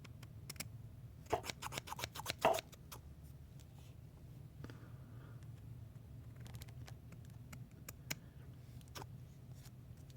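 Scissors trim cotton wick for a Griffin RTA vape atomizer: a few quick, crisp snips close up in a short cluster, then faint scattered clicks over a quiet low hum.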